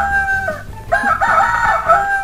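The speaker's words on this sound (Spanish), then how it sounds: "este es el gallo" A Chicco sound toy plays a recorded rooster crowing, a single loud electronic cock-a-doodle-doo lasting about two seconds.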